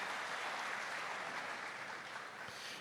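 Faint, steady applause from a church community congregation at a festival, a soft continuous wash of many clapping hands heard at a distance, with no talk over it.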